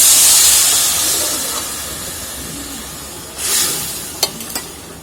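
Strained tamarind water poured into a hot pan for brinjal kara kuzhambu sets off a loud hiss and steam that gradually fades, followed by a short burst and a couple of sharp clinks near the end.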